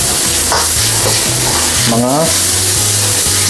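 Yakisoba-style Indomie noodles tossed with tonkatsu sauce and seasoning are stirred in a hot pan, a loud steady sizzle with rhythmic scraping strokes repeating about every half second, close up.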